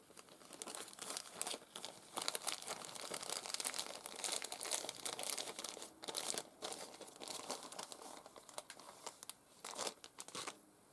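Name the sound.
handling a plastic bag of laces, crinkling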